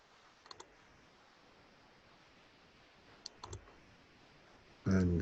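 A computer mouse clicks sharply a few times, a quick double click near the start and a short cluster of clicks in the middle, close and fairly faint over quiet room hiss, before a louder burst at the end.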